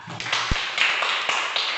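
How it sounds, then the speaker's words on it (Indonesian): Schoolchildren in a classroom clap their hands, a few scattered sharp claps standing out over a thin, hissy background. "tepuk tangan"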